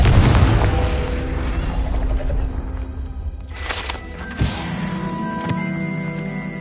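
A Confringo blasting spell explodes in a video game: a deep booming burst at the start fades into mechanical whirring, with a short sharp pop later.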